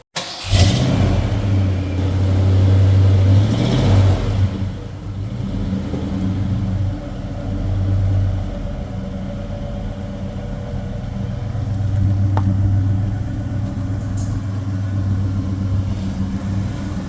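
A big Ford truck engine rumbles under way on a rough track, giving a steady low drone that swells at times. It is close and continuous, and no voices are heard.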